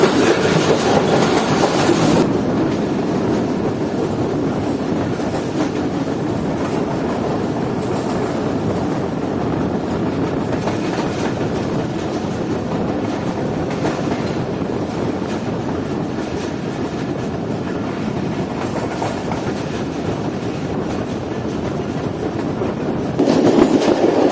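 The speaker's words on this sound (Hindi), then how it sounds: "ट्रेन तकरीबन 8:45 बजे स्किप कर रही है ढेरकी रेलवे स्टेशन को" The Fareed Express, a private passenger train between Lahore and Karachi, runs through Daharki railway station without stopping, its wheels rumbling and clattering in a loud, steady roar that carries on throughout.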